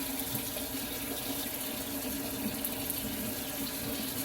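A potato is washed under a running kitchen tap, giving a steady, close, continuous splash and hiss of water that holds without pause for the whole few seconds.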